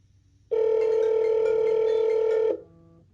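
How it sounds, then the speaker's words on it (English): A cell phone notification tone sounds as one steady electronic ring, lasting about two seconds and cutting off abruptly, loud and alone over faint room hiss. "That's the notification for the phone"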